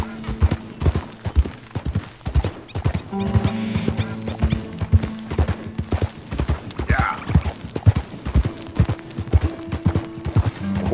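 Rhythmic clip-clop of horse hooves trotting steadily throughout in Red Dead Redemption 2, with an occasional whinny and a low tonal hum in the background.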